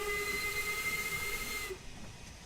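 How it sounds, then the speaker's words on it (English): Steam locomotive in Train Sim World 3 with its cylinder cocks opened, a loud, steady hiss of escaping steam with a thin whistling tone, cutting off sharply near the end to a quieter rumble. "Open the cylinder cocks to remove any water."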